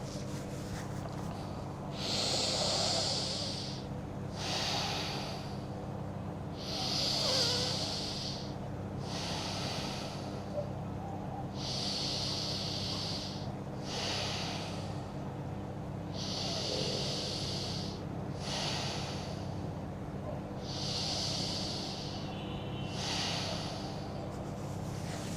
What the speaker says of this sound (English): we're going to breathe in fully, hold it briefly at the top, and then exhale